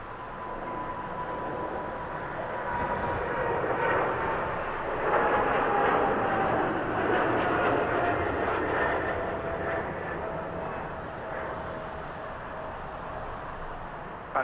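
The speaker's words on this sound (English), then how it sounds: "Coming from Detroit, Spirit A321 Neo" Spirit Airlines Airbus A321neo jet arriving at Los Angeles airport from Detroit: a sustained engine rumble with a thin whine that slides slowly downward, swelling midway and then easing off. No one speaks.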